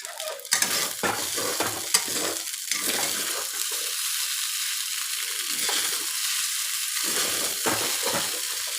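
Maggi noodles fry in a pan on a low-to-high flame while a spoon scrapes and stirs them, with bursts of clatter over a continuous soft sizzle and no talking.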